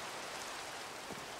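Steady rain falling in the Minecraft video game world, a soft even hiss of downpour heard alone and fairly quiet, with no talking over it.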